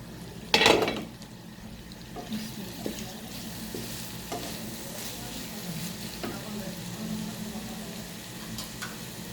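Vegetables for a qeema macaroni dish frying in a pan, a steady low sizzle with a sharp utensil clank at the start and occasional stirring scrapes afterward, close and fairly quiet.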